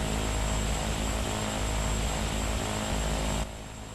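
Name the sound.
Porter propeller aircraft taking off in a flight simulator game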